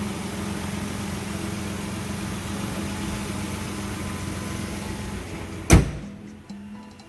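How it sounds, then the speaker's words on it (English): A 1999 Nissan Elgrand's engine idles low and steady, humming quietly for several seconds, then a single loud thud like a door shutting cuts through. "The engine is all running, very quiet."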